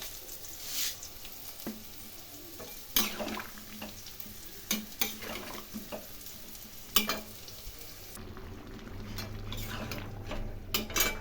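Mixed vegetable curry simmering covered in a pan, a soft steady sizzle punctuated by occasional sharp utensil clinks and lid knocks, fairly quiet and close, no speech.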